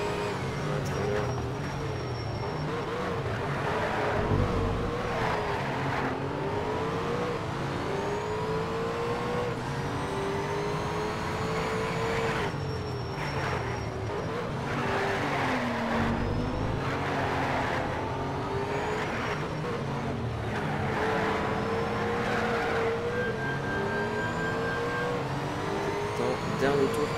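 Racing cars in the Need for Speed Shift video game, including a Porsche, with steady engine roar and shifting revs throughout, while a player talks over the game audio.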